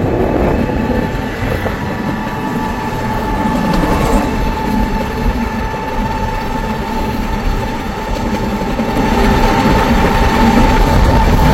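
A train runs along a rail line beside a rural road on a foggy winter morning, producing a loud, continuous rumble with a steady droning tone that lasts throughout.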